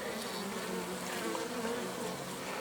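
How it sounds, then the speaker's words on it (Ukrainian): Honey bees buzz inside an opened hive during a colony check, a continuous dense drone from many insects close by, steady and fairly quiet with no talking. "Навіщо його будоражити бджіл?"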